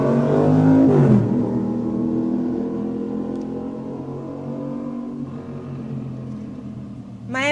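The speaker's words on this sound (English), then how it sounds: "It's just amazing how many motorcycles are going to go by right now." Motorcycles riding past outdoors, one after another, a steady loud engine rumble that swells briefly near the start and then fades gradually with no talking.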